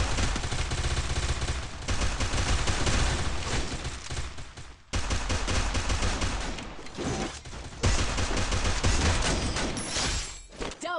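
Loud, dense gunfire from a video game shooter: rapid overlapping shots and bursts pour out almost continuously, broken by brief lulls around the midpoint and again shortly after.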